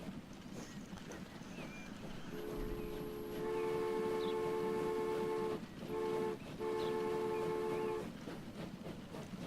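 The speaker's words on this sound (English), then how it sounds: "our second passenger train rolls out of the depot and into our hearts" A passenger train departs a depot in Transport Fever, a steady rolling rumble under a loud multi-tone horn blast that cuts out briefly twice before resuming, set against a continuous background hum.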